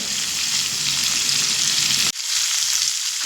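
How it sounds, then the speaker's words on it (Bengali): Shrimp fry lightly in a pan with a close, steady hiss of oil that briefly drops out near the end before resuming. "চিংড়ি মাছগুলো হালকা করে ভেজে নেব"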